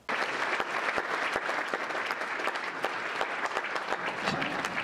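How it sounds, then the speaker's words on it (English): A hall audience gives a big round of applause honoring a distinguished alumnus at a Kansas university event: dense, sustained clapping with a few sharper individual claps standing out. "So let's have a big Jayhawk round of applause as we honor Chris Lynch."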